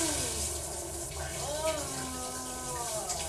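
Hot shower water runs in a steady, close hiss and splash, with voices talking over it throughout.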